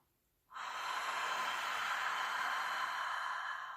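Ujjayi pranayama breath drawn through a constricted throat makes a long, close, hollow rushing hiss that starts abruptly after a moment of quiet and holds steady to the end.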